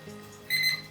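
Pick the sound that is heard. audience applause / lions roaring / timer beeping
timer beeping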